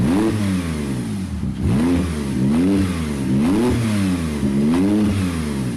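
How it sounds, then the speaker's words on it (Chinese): Close and loud, the engine of an abandoned Porsche, with a newly fitted radiator and fresh coolant, runs continuously in rolling swells of revving that rise and dip in a slow, uneven rhythm, with no voices. "怠速10来分钟，确定发动机的运行状况没啥问题。"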